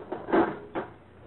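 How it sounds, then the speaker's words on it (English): Radio sound effect of an electric dishwasher door being closed in a 1947 comedy broadcast, two quick muffled knocks from the door and latch, close and clean with no talking over it. "And close the door."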